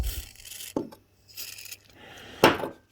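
A small brass brush scrubs gingerly at a Honda CB750 K2 motorcycle carburetor, giving three short, close, raspy bursts of bristle scrubbing separated by brief pauses.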